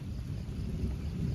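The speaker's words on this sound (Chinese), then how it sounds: "你听听，打雷啊，可能" Thunder rolls during a typhoon rainstorm as a steady, deep rumble that fills the whole moment without a break, with wind noise blended in and no clear crack.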